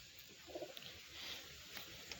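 Pigeons coo softly inside a pigeon loft, with low, rounded calls and faint fluttering under a steady background hiss.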